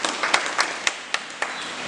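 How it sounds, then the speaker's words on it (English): A few people clap in a sparse round of applause at a branch meeting, with irregular individual claps standing out over a soft hiss of background noise. "I'm going to give you my round of applause for that"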